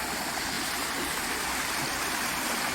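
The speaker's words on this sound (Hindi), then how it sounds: "जंगल के पानी को यहाँ पर झरने का शेप दिया गया है" A small forest stream in Bhutan, its water shaped into a little waterfall channel, gives a steady, close, broadband rush and hiss that holds constant throughout, with no voices.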